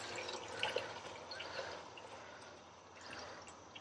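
Lukewarm water, about 2.5 litres, poured into a cooking pot of beef haleem: a steady close splashing and trickling wash with no talk.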